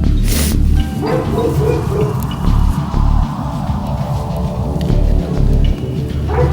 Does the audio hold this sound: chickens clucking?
no